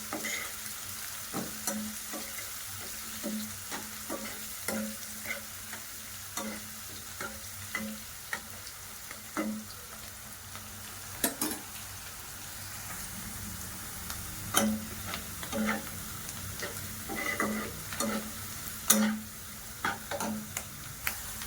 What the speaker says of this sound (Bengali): নাড়াচাড়া করে আমি ব্রাউন কালার করে নেব।